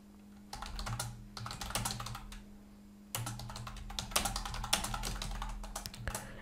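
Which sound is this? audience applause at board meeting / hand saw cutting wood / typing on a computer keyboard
typing on a computer keyboard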